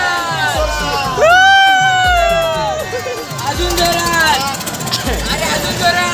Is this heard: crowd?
yes